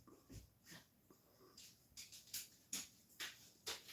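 A dog snorts, sniffs and whimpers faintly in a room, giving a series of short nasal bursts and soft whines that come closer together toward the end.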